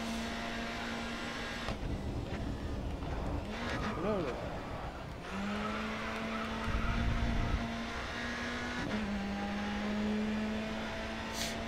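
A touring race car in Grid Autosport drives along steadily, its engine holding a sustained tone with shifts in pitch and a brief rising rev in the middle.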